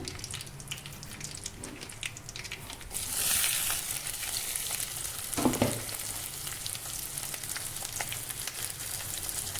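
Garlic frying in a pan with curry leaves, a steady close sizzle with a louder hiss flaring up as it is stirred, no voices over it.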